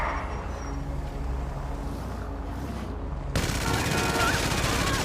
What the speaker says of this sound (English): The machine guns suck,